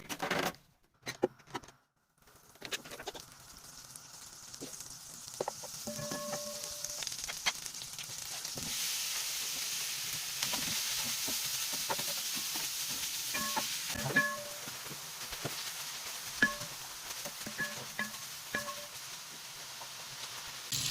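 Two knobs of butter and a spoonful of oil sizzle in a pan, a steady close hiss with scattered small crackles that rises after a few sharp knocks at the start and carries on without talk.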